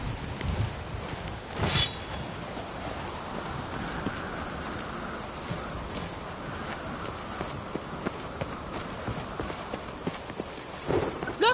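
Steady clip-clop of horse hooves at a quick gait in The Witcher 3: Wild Hunt, continuous throughout, with a brief sharp burst near the start and game ambience underneath.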